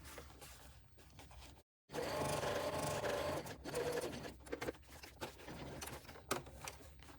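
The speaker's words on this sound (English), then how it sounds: "sewing down here at 1/8 of an inch all the way to the end" A sewing machine topstitches fabric an eighth of an inch from the edge, running in a fast steady whir close by, with a brief pause and then irregular stitching bursts toward the end.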